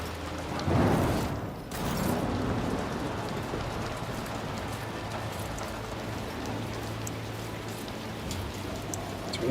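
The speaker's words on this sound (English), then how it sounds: "Why do we always have to work in the rain?" Rain falling in a steady hiss of drops on surfaces, with a louder splashing burst near the start, then continuing evenly at a moderate level.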